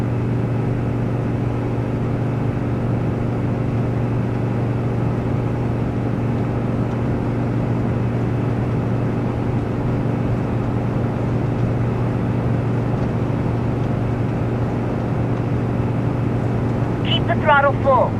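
Aircraft engine in the Microsoft Flight PC game revs at full throttle for takeoff, a steady loud droning hum with constant tone that holds throughout, a brief chirpy tonal sound near the end.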